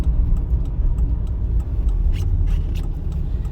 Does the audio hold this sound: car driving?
yes